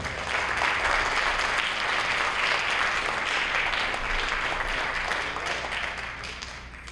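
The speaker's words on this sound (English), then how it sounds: "Give yourselves a round of applause." Parents and the audience at the Colonia High School spring band concert in 2023 give sustained, full applause that holds steady and eases off slightly at the end, with no talk over it.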